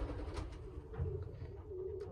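Young racing pigeons coo softly in a loft, a faint low murmuring that rises in a few gentle swells over quiet background hum, with no speech.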